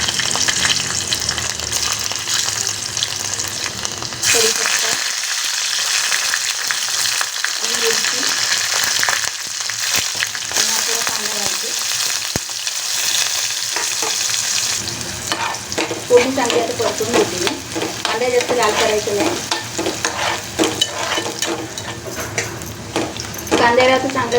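Garlic sizzling in hot oil in a heated pot, with steady frying crackle and stirring throughout, briefly quieter mid-way before the sizzle swells again; someone talks intermittently.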